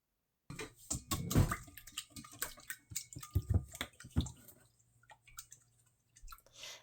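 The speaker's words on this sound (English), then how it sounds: "I am going to whisk this up a little." Whisk taps and clicks through bread batter mixed with whole milk in a bowl, a quiet run of uneven, wet strokes that thins out toward the end.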